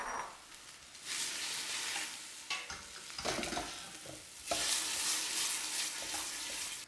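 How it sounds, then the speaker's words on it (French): Red cabbage sautéing in a pan with white wine and sugar, giving a steady close sizzle and frying hiss with stirring scrapes and bursts of louder sputtering, no talk. "On déglace avec un petit peu de vin blanc et on fait bien revenir."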